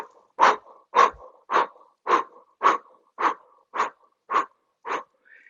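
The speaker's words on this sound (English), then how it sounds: "the breathing is through a rounded mouth" Forceful breathing through a rounded mouth during a breathing exercise, nine steady, evenly spaced breaths close to the mic, each a strong rushing burst, with no talk.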